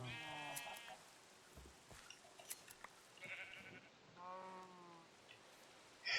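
Sheep in a modded Minecraft 1.12.2 world give several separate bleats, some drawn out, spaced across a few seconds over a quiet game background with no talking.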